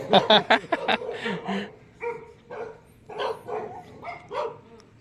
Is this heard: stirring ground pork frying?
no